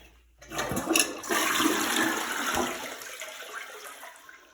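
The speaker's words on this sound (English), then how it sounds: "Let's go ahead and flush this here." Toilet in a rental home with a worn flush kit being flushed: a click, then a loud sustained rush of water that gradually fades as the bowl drains, close by with no talking.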